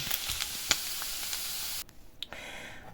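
Pieces of meat frying in a pan until golden give a bright crackling sizzle with scattered pops, fairly quiet, cutting off abruptly partway through and leaving a faint background with a couple of small clinks.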